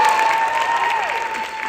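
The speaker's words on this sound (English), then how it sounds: "we get another applause for you." A crowd applauds steadily at a 2023 high school drama awards ceremony, dense and sustained throughout with a faint steady tone ringing over it.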